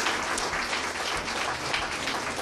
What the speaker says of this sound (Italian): si fa anche un applauso per far sentire a Sant'Olcese dopo le feste quanto